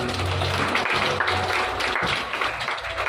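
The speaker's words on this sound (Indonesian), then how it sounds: "Mari berikan tepuk tangan yang bagi kita." A church congregation at a sermon on preparing for the last days claps in sustained applause, a dense steady patter of many hands filling the room, with a few faint voices underneath.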